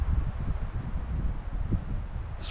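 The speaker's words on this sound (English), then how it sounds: "It's getting pretty windy up here." Gusty wind buffeting the microphone, a loud low rumble that rises and falls with a faint rustle of leaves.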